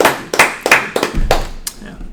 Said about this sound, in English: Round of applause for my man Del